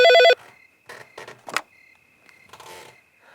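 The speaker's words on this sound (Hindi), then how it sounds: "इतनी रात को फोन कौन कर रहा है?" A telephone rings once at night in a short electronic burst, followed by faint clicks and rustling in a quiet room.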